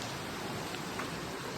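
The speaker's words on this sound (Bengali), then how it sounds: "বৃষ্টি হয়েই যাচ্ছে" Heavy morning rain in Darjeeling pours down as a dense, even hiss of drops drumming on surfaces, close and constant with no pauses.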